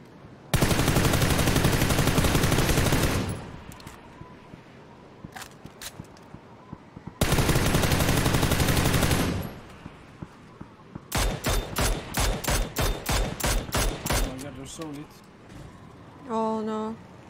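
Video game gunfire: two long, dense, loud sustained bursts, then a series of rapid evenly spaced shots near the end, with voices talking in between.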